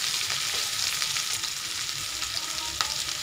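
Cauliflower and mixed vegetables fry in a pan for Bengali-style dry sabji, giving a steady close sizzle with soft crackles and stirring scrapes, and no voices.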